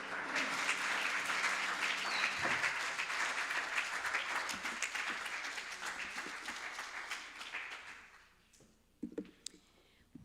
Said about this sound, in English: Can we get another round of applause for Miss Colette and Miss Cassie?